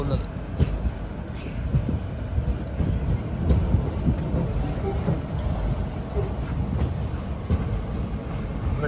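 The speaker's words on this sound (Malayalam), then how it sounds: "10:03 കോയമ്പത്തൂർ ജംഗ്ഷൻ 1-ാം നമ്പർ പ്ലാറ്റ്ഫോമിലേക്കാണ് നമ്മുടെ ട്രെയിൻ പോകുന്നത്." Tambaram Mangaluru Express rolling into Platform 1 at Coimbatore Junction, heard from inside a sleeper coach as a steady rumble with occasional clanks, with some faint background voices.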